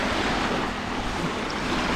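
Waves wash onto the Beagle Channel shore at Puerto Almanza, a steady continuous surf rush mixed with wind noise on the microphone, close and fairly loud.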